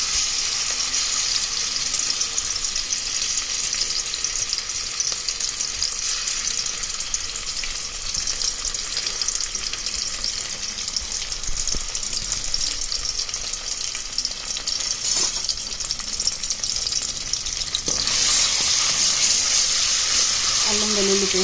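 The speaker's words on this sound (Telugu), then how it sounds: "అల్లం వెల్లుల్లి పేస్ట్లో ఉన్న పచ్చివాసన అంతా కూడా వెళ్ళిపోయే మాదిరిగా మనం ఇలాగా గరిటెతో కలుపుతూ ఉండాలి." Ginger garlic paste frying in hot oil for a spicy chicken curry, a loud, steady sizzle and crackle that runs throughout while a ladle stirs it, with occasional scraping.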